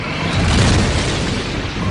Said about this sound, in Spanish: Algunas estrellas al morir producen una explosión supernova.